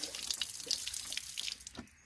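Water splashes and gurgles while a garden fountain basin is rinsed out, producing steady running and dripping sounds that fade toward the end.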